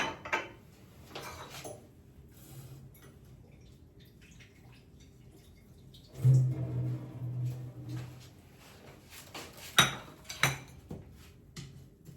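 Plates and cutlery clink and clatter in a few scattered bursts, with quieter gaps between them. A longer, louder run of rattling comes midway, and sharp clinks follow near the end.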